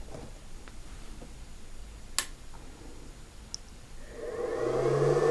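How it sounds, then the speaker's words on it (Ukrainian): A battery charger's cooling fan whirs up from near silence, a steady hum building in the last second and a half, with a couple of faint clicks before it starts. "Вентилятор зарядного пристрою шумить приблизно так само"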